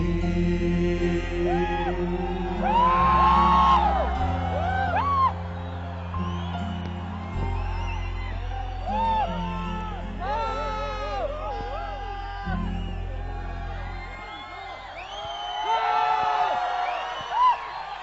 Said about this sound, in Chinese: 非常感谢大家的热烈的掌声，还有大家尖叫声